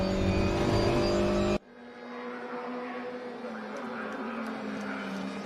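Touring race cars in a Euro TCR race at Silverstone in the RaceRoom sim game: a loud engine drone cuts off abruptly, then a steadier, more distant whine of several cars running in a line.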